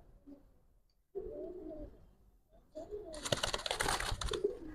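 A pair of large Chuithal Kaldom pigeons coo in short, soft throaty phrases, quiet and close, with a burst of sharp rattling clatter near the end.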